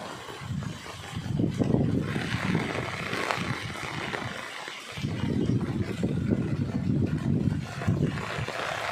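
Fast-flowing flood water rushing steadily past a house, a loud continuous broadband roar with surging low rumble throughout, no talk.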